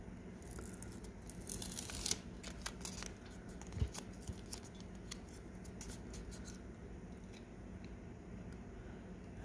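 Backing being peeled off a sticker label for a game case, heard as close, quiet crinkly tearing and crackling near the start that fades into a soft rustle, with no voices.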